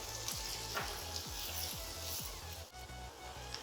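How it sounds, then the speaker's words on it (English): Chicken pieces fry in a pan for a curry, a continuous soft sizzle and crackle with a faint repeating low pulse underneath, steady and close. "We'll just let it fry for another 5 minutes."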